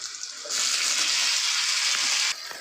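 Tomatoes go into onions sautéing in oil, setting off a sudden loud hiss that holds for about two seconds before dropping back to a quieter crackle.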